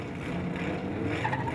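Pro drift cars at a D1NZ round in Wellington, New Zealand accelerate down a straight toward a sweeping right-hander, a continuous loud roar of engines and squealing tires with no pause.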